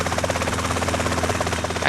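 A helicopter in GTA San Andreas keeps up a loud, steady rotor drone with a rhythmic chopping pulse and an engine whine, continuous throughout and with no voices.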